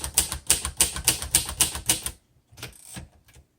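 Rapid keystrokes on a 1957 Royal Quiet De Luxe manual typewriter, a quick run of crisp clacks, then a short pause and a few softer key strikes.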